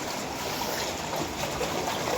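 Heavy rain runoff rushes through a field sluice during a downpour in Dharmavaram, giving a steady, dense broadband roar of flowing water that stays loud and even throughout with no voices.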